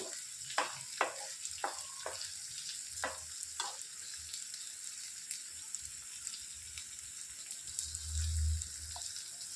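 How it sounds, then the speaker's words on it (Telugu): Bitter gourd pieces fry with onions in a pan, giving a soft, steady sizzle while a few quick stirring scrapes come early, then a lower rumble near the end. "ఉల్లిపాయలు కొద్దిగా వేగిన వెంటనే ఈ కాకరకాయ ముక్కలు వేసేసుకోవాలి బాగా కలుపుకుంటూ ఫ్రై చేసుకోవాలి"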